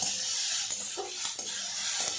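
Oats with tomato paste and green chillies being fried lightly and stirred in a pan, a steady soft sizzle with intermittent scraping strokes of the spoon, close and alone with no talk.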